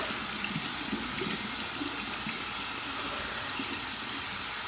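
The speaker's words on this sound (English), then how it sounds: "Let's get my Shash alum block. Run under some cold water." Cold tap water runs steadily over an alum block held under the faucet, a continuous soft hiss of flowing water with no voices.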